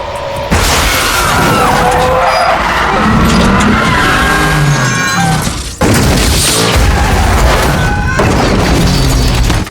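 Loud film car chase with a Ferrari, tires skidding and screeching, engine roaring, and heavy booms and crashing impacts, with a sharp cut midway and dense action noise throughout.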